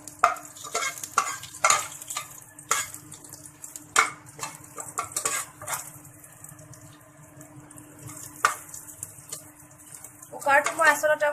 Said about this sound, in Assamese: এতিয়া মই দিম কাজু কেটা অকণমান সময় লৰাই থাকিব লাগিব যাতে কালাৰটো অকণমান ব্ৰাউন হৈ যায়